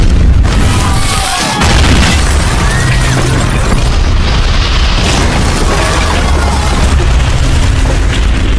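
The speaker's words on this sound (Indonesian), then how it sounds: "hanya selang beberapa detik saja bom itu meledak sampai meruntuhkan seluruh desa" A loud, booming bomb explosion in a film, destroying a whole village, with a heavy rumble that keeps roaring for several seconds, dense and close.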